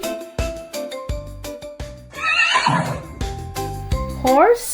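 A horse whinnies in a short, shrill burst, followed by a second rising neigh near the end, both over a bouncy children's tune.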